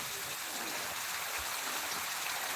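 Rain falls in the evening, a faint and steady hiss of drops on surfaces that runs evenly throughout with no one talking.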